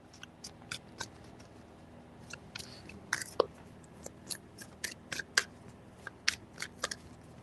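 Tarot cards being shuffled up close: a quiet run of crisp papery clicks and flicks in an uneven rhythm, some snaps sharper than others, with no one talking.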